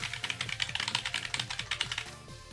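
Buttons on a small MIDI controller are tapped in a quick, irregular run of sharp, clacky clicks, close and fairly loud, with no voices.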